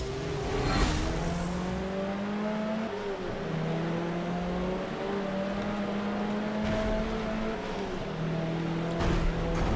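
Race car engine in Forza Motorsport 7 revving loudly and continuously, pitch climbing and dropping through repeated gear shifts, up close and alone without talk.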